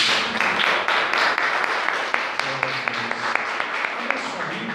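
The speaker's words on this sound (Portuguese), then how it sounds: "e as palmas do Senhor Jesus Cristo" A church congregation claps in steady, rhythmic unison, with regular sharp beats under a continuous murmur of voices and ambient room sound.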